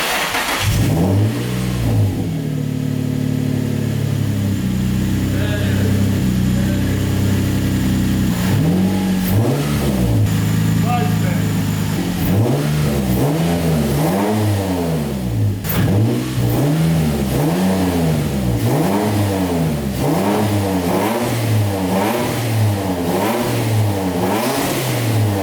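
A turbocharged Nissan 350Z with a custom exhaust revving repeatedly in free revs, loud and close, with deep rising and falling engine swells in a steady series and a rough idle between blips.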